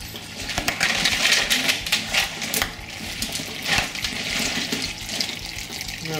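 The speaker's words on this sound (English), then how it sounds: "just run a little bit of extra. Just to rinse any of that?" Water rinses steadily through a small bubble hash washing machine, a continuous splashing, gushing flow close by with no voices over it.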